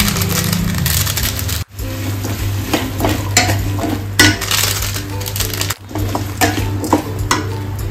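Masala fries in a pan with a continuous sizzle while a utensil stirs and scrapes, giving sharp metallic clinks and a couple of brief pauses in the sound.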